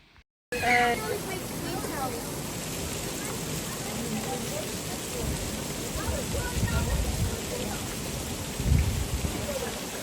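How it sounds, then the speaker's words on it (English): Heavy rain pours down steadily in Thailand, with a low rumble of thunder rolling in near the end and some indistinct voices in the background. "It is raining pretty hard."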